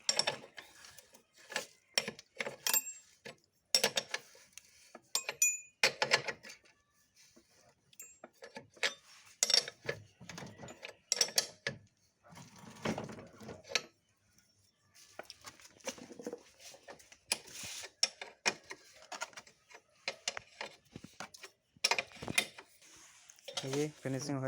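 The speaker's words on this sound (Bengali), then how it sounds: "এর মেন নাট টাইট মারা হচ্ছে।" The main nut on an electric scooter brake being tightened, heard as a run of close metallic ratchet clicks and clinks in irregular bursts with pauses between.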